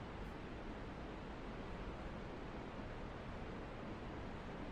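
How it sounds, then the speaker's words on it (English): Steady broadband hiss of white noise, even and unbroken throughout, with a soft rushing quality like wind or surf, fairly quiet and with no voices over it. "That's some good white noise."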